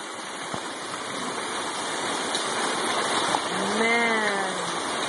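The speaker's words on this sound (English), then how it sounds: "Look at all that hail." Hail pouring down during an Easter Sunday storm, a dense, steady roar of pellets striking surfaces that runs the whole way through, with a faint rising tone passing in the background near the end.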